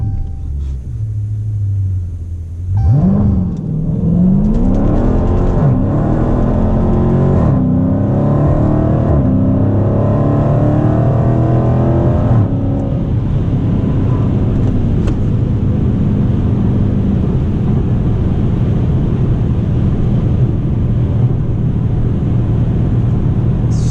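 Dodge Challenger engine held at revs and then pushed to full throttle with launch control engaged, a loud close rumble that climbs in pitch through several surging revs before settling into a sustained high drone.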